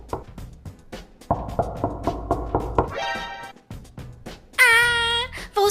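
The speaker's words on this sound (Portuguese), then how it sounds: "O bicho devorão tá batendo na porta." Cartoon knocking on a door at night, a quick series of sharp, evenly spaced knocks up front, then musical tones and a bright electronic sound effect close by.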